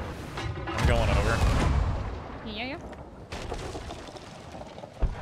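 Ship cannons booming during a naval battle in the pirate video game Sea of Thieves, a few heavy blasts with rumbling tails among other in-game effects, with a player talking over the action.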